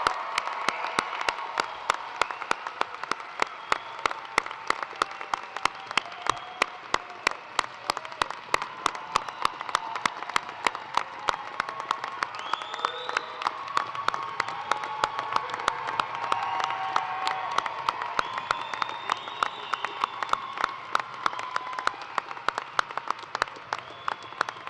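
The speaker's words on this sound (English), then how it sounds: "I think now would be a really good time for a really big round of applause." Sustained applause from a law school commencement audience, dense steady clapping with some crowd noise and scattered cheers, loud and continuous throughout with no talk.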